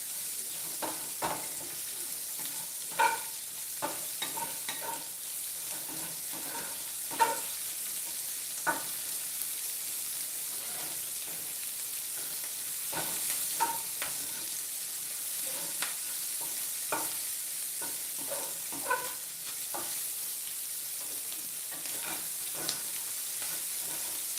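Small pieces of pork fry in a pan for a quick red pasta dinner, a steady close sizzle and hiss broken by repeated scraping and clacking as the meat is stirred around, with no talking.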